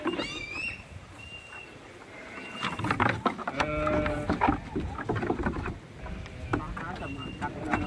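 Sheep bleat repeatedly while being loaded for transport to a partner in Bekasi, several overlapping calls close by over scuffling, rope handling and bustle, with people talking now and then.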